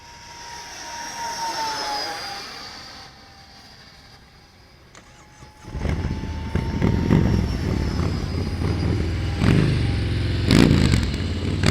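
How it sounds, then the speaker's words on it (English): E-flite F-15 model jet with a 64mm electric ducted fan flying past outdoors: a thin whine sweeping up and down in pitch at a distance, then a loud, roaring close pass that stays strong to the end. "It's a great flying little plane here. Let's rip her across again."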